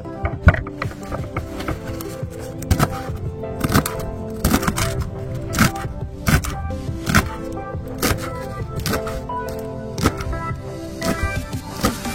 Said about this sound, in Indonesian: si daun pepayanya ini kita potong atau kita rajang kecil-kecil terlebih